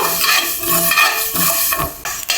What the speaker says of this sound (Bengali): এক চা চামচের মতো কালো সরষা নিয়েছি আর এক চা চামচের মতো সাদা সরষা নেব সরষাগুলো হালকা একটু টেলে নেব